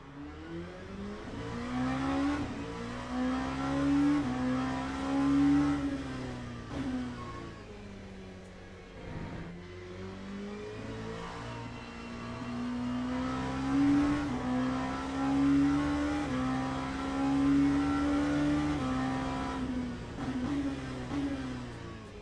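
An LMP2 prototype race car in a racing video game, its engine howling up through the gears in repeated rising sweeps, with brief dips on shifts and a steady close-up roar.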